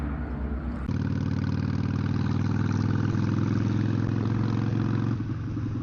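A Harley-Davidson Sportster 883 engine runs steadily close by with a loud, throbbing low rumble, shifting pitch briefly near the start and end.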